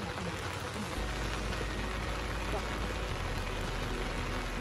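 Steady rain hisses without a break, a dense wash of falling drops pattering on surfaces with nothing else standing out.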